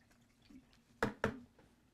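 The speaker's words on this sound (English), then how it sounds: "Let me rinse that brush out." Paintbrush being rinsed in water between oil-painting strokes: two quick close splashy swishes after a faint drip, otherwise quiet.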